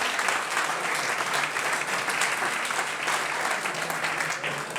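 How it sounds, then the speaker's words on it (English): A hall audience at a cycling club awards night claps in a steady, sustained round of applause, moderately loud and even throughout with no talk over it. "A round of applause"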